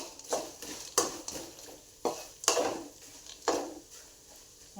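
Poha chivda with peanuts, dry coconut and roasted gram frying in a pan, stirred with a spatula that scrapes and clinks against the metal in roughly regular strokes, close and fairly quiet, with no talk.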